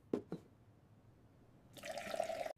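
Water pours into a mix of jaggery and citrus peels for a bioenzyme, a steady splashing fill rising in the last second after two brief knocks.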